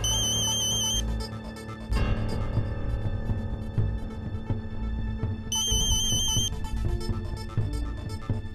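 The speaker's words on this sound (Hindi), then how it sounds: "अब अर्जुन तुम्हारा फोन आ रहा है।" A mobile phone ringtone for an incoming call plays as a looping electronic melody with bright repeated tones, fairly loud and steady, restarting partway through with no talk over it.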